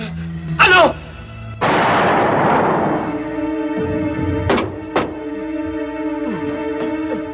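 A sudden loud laboratory explosion erupts and rumbles away over a musical background, followed by a couple of sharp impacts.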